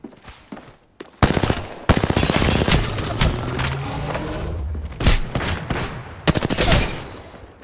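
Close, loud automatic gunfire from Apex Legends, rattling bursts and sharp cracks with heavy thumps, tapering briefly before another burst near the end.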